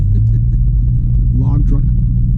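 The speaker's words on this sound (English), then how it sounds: "Log truck." A log truck passes on a road, a steady low rumble close by that swells briefly, with someone talking over it.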